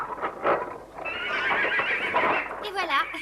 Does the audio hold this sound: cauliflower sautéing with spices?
no